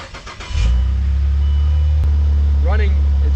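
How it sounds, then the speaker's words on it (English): A Saab 9-3 TurboX engine cold-starts with a brief cranking whir, then catches into a loud, steady low idle close by, with a faint click and a short high squeal over the running engine. "I'll give you guys a little cold start"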